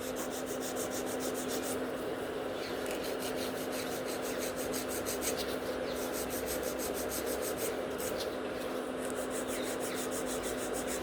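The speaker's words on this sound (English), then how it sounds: "So I'm just filing exactly the same like I would file after I have sculpted a set of the nails." A nail file working over gel nail extensions on tips, giving a continuous close raspy rubbing with quick back-and-forth strokes heard as pulsing bursts over a steady hum.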